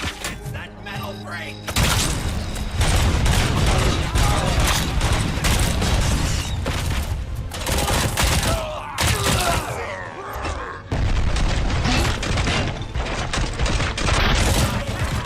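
Heavy gunfire in the Robocop: Rogue City video game, loud dense barrages of shots and impacts that continue almost throughout, briefly dropping out twice, with occasional talk mixed in.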